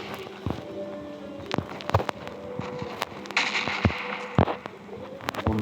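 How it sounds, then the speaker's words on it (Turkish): Explosions from grenades in the mobile battle royale game PUBG Mobile Lite, several sharp bursts scattered across a busy in-game soundscape with engine-like tones and clatter. "Allah bomba var."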